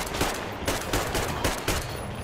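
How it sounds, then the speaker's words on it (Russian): Rapid bursts of gunfire in Metro Exodus: Sam's Story crack in a loud, repeated rhythm, several sharp volleys close together with no talking. "Я ж тебя выстрелил уже миллиард раз."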